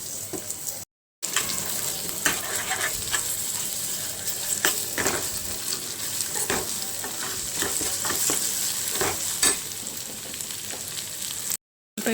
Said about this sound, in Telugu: పేస్ట్ పచ్చివాసన పోయే వరకు వేపుకున్నామండి